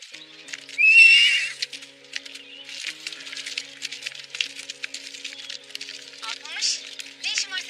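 Horses neigh and whinny loudly, with one long call near the start, while their hooves clip-clop steadily through a camp scene and people talk over the action.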